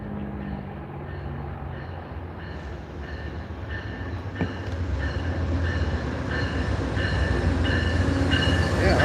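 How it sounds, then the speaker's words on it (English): A CT Rail train hauled by an old Amtrak locomotive rolls past close by, a loud, steady rumble with rhythmic wheel clicks and metallic ringing that builds as the cars go by. "It is CT rail, but it's one of the old Amtrak locomotives."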